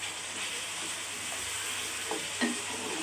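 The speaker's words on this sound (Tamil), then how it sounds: "நல்லா கிளறிக்கலாம்." Garlic chilli chicken being stirred in a pan, with a soft steady sizzle and faint scraping of the spoon, plus a couple of brief clanks near the end; no one speaks.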